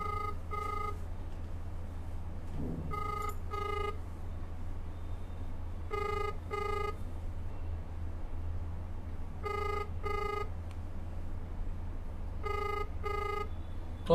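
An unanswered phone call rings in repeated paired electronic tones at steady intervals, clear against a low background hum of traffic.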